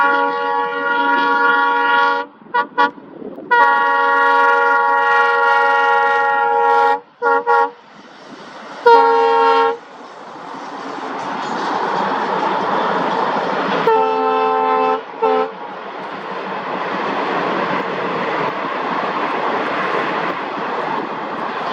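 An ALCO diesel locomotive train passing near, sounding several long loud horn blasts in bursts, followed by a rising roar and rumble of wheels and cars rolling by, with no talking.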